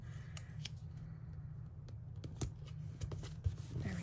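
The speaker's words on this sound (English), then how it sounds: "I'm trimming off the white" Scissors trim the white edge off a paper piece for a dot grid journal page, quiet close snips repeating irregularly over a soft hum.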